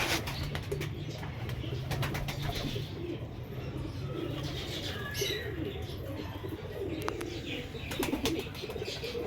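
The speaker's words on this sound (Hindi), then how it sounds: "इसको हम कहते हैं कांटे वाले कबूतर, कांटों वाले कबूतर" Pigeons of the bred line called kante wale kabootar coo softly in short repeated calls at a moderate distance, over a low steady background hum, with light chirps and a faint wing flutter.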